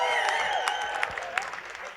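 A Dubai crowd at a live hip-hop event cheers and applauds steadily, a dense wash of noise with scattered sharper whoops and shouts rising over it throughout.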